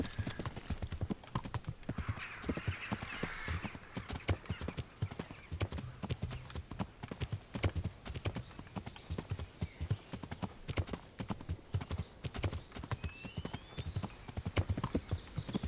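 Rapid, rhythmic clip-clop of horse hooves at a steady gallop in the video game Kingdom Come: Deliverance, continuous and fairly close throughout, with no speech.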